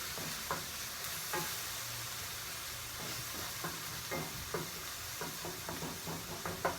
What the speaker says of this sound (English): So I usually saute my vegetables till they're translucent or nice and soft. Cooking on a medium heat.